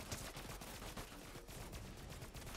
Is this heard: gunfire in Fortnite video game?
yes